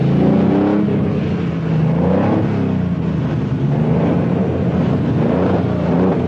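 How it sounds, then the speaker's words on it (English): A Peugeot rally car on the long rally to Nairobi pulls away hard, its engine revving up and climbing through gears, loud and close, with no talk. "Co-driver Jean Todt jumps back in and they're off"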